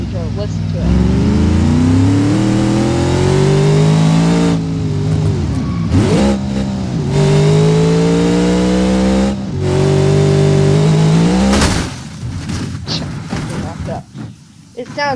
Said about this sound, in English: It sounds more like an old car engine than the last two that we drove